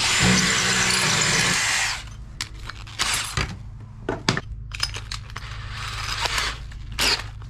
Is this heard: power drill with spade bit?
yes